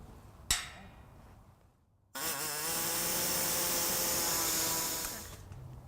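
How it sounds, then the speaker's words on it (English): An air saw cuts to enlarge a hole in the frame of a 2017 Ford Focus, starting after a sharp knock and a pause and then holding a loud, steady buzzing whine for about three seconds before stopping. "I'm going to use an air saw and we're just going to open this up a little bit"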